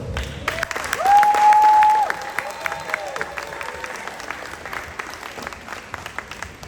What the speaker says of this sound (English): So let's give the boys a round of applause.